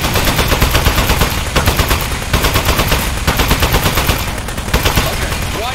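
Rapid automatic gunfire in the video game Aperture Desk Job, loud bursts of rhythmic shots repeating in quick succession with only brief pauses between volleys.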